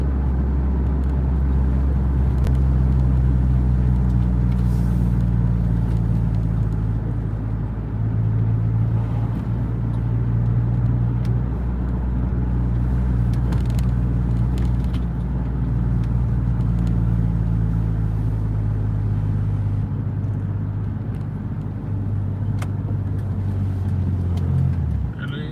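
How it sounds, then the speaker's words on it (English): A truck's engine rumbles close by, loud, low and continuous, with shifting pitch as it slowly rolls in and settles while parking beside an Ontario stream. "Oh, there's the truck."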